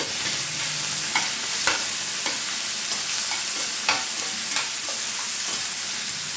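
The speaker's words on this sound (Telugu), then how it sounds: "ఇది బాగా వాడేంత వరకు వేగించుకోవాలి పచ్చిమిరపకాయలు కూడా బాగా వాడేయండి" Cumin seeds and green chillies frying in oil for a tomato chutney: a constant hissing sizzle broken by regular stirring scrapes, close up and without speech.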